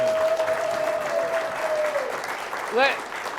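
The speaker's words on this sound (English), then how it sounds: "Guys, can we get a round of applause for what they're doing?" Crowd applause at a real estate investing event, a sustained wash of many clapping hands filling the room, with a steady held tone and a brief rising whistle or cheer near the end.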